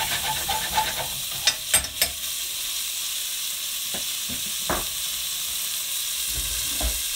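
Beef meatballs fry in a hot pan, a steady close hiss of sizzling fat, with several sharp clacks and knocks of a utensil early on and a few sparse taps later.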